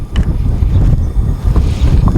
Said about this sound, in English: It's quite windy out here today.